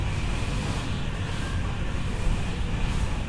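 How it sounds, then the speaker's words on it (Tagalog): Strong wind roars across an outdoor airgun practice range, a constant loud broadband rush buffeting the microphone with no voices over it. "Ganito kalakas na hangin ah."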